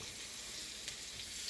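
Garlic fries in a pan with a quiet, steady sizzle and a faint stir partway through.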